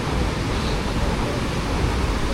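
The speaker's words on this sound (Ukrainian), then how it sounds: "І дуже великі хвилі, як завжди," Big sea waves on the Vietnam seafront wash against an eroded embankment with almost no beach left, a loud continuous broadband roar of surf without distinct breaks.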